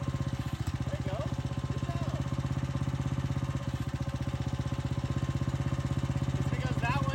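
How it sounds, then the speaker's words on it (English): An engine runs steadily at close range, its pulsing drone shifting slightly as hydraulics are worked while a garden is prepared for planting potatoes, with faint voices now and then. "It's because that one changes the noise of the engine."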